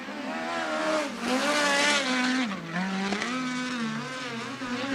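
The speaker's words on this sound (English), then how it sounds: "Now the car rolling at speed here in Honest Abe Roofing qualifying." A sprint race car runs at speed on the Bakersfield Speedway dirt track during qualifying, its engine whine loud and steady, pitch dipping and rising as it works through the corners.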